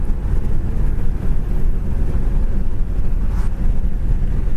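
1957 Chevy Bel Air two-door sedan with a 283 two-barrel V8 cruising on the road: a loud, steady low rumble of engine and road noise with some wind buffeting, no talk.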